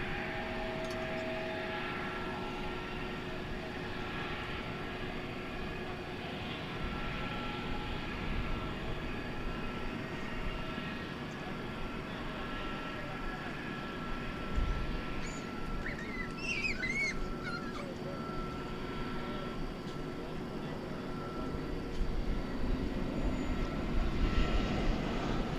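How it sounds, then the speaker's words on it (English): A Spirit Airlines Airbus A321neo bound for Las Vegas at Dallas/Fort Worth at night, its engine roar steady and moderate, swelling slightly toward the end, with a faint dog whimper partway through. "Here's our first Spirit plane of the evening. Flight 1381. It's going to Las Vegas. It is an Airbus A321neo."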